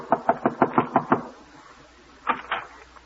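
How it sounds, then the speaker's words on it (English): Seven quick, evenly spaced knocks on a wooden door for a radio comedy sound effect, followed by a brief pause and two softer, muffled thumps. "she's knocking at the door."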